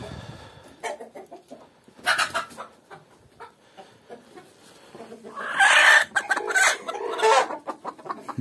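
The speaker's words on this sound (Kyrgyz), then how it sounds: "Бул эң чоң короз, бул чоң короз бар." Large Adler breed rooster crowing among a flock of chickens, with nearby clucking and scattered calls throughout and a louder, drawn-out crow rising in the second half.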